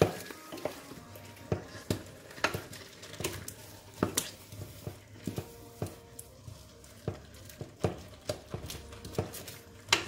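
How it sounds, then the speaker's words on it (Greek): Food in a pot with lemon juice and zest is stirred well, making a run of irregular clinks and scrapes about every half second over a quiet background, with no talking. "Ανακατεύουμε καλά."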